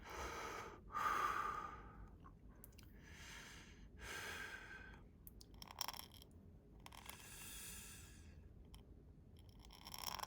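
Slow breathing from a person writing copperplate calligraphy, with several soft inhales and exhales in an uneven rhythm, close and quiet against a faint background, with no talking.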